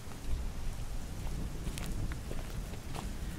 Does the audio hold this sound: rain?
yes